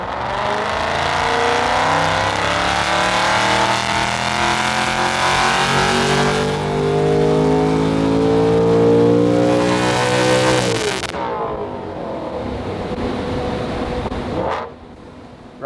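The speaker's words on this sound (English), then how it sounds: "we're onto our final dyno pull. So we're going to rev it all the way out" Ford Mustang Dark Horse tuned to about 867 bhp, revving hard on a dyno: a loud, close engine climbs steadily in pitch through a long full-throttle pull, then cuts off abruptly and drops to a lower idle-like rumble before falling quiet.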